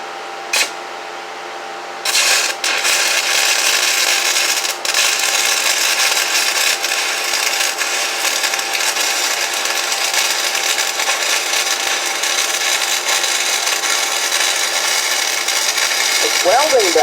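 Arc welding with an unmarked mystery welding rod set at 140 amps: after a brief quiet start, a loud, continuous crackling and sizzling hiss runs unbroken, close to the torch, until the end.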